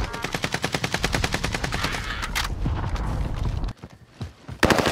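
Rapid automatic gunfire in an online shooter match, loud, fast, evenly spaced bursts for several seconds, a brief pause, then more shots resuming close up.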